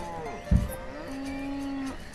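Cattle in the Banished video game give a drawn-out moo after a brief thud, moderately loud against quiet game ambience.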